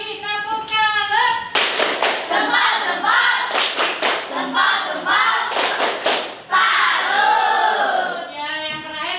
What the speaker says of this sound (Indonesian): Sekali lagi, tepuk salut.